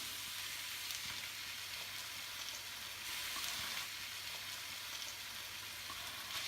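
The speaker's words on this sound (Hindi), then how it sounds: "अब हम इसको तकरीबन 1 मिनट इसमें भून लेंगे" Liver (kaleji) frying in oil with vinegar and lemon juice, a continuous close, even sizzle holding steady throughout with faint stirring and no talking.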